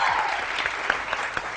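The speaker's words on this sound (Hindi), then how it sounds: "तालियां" A studio audience on a morning TV show breaks into a short, brisk round of applause, dense and fairly loud, with a few sharper claps standing out.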